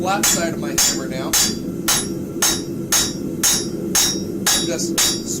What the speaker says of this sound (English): Flat side of my hammer now.